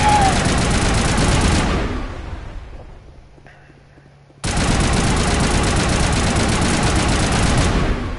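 Shotgun fire in the video game Mass Effect, dense loud bursts of gunfire that drop away to a brief quieter lull, then slam back in at full force.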